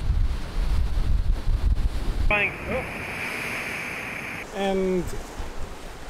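Seawater surges against the rocky shore at The Rock in Madeira, a loud, roaring wash close by with strong wind on the microphone, then a calmer stretch where brief tonal sounds and a spoken word come through.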